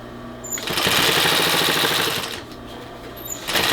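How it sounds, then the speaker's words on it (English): A sewing machine stitches down the edge of a vinyl bag flap in one steady, rapid mechanical run lasting about two seconds, with quieter motor hum and handling noise before and after. "So this I'm just going to sew down just to the very edge"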